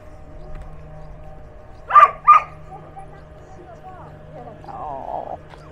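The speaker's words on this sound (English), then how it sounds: "there's one very excited dog" An excited dog at an outdoor cafe seating area near a play park gives two quick sharp barks at mid distance over steady background hum, followed by a softer whine.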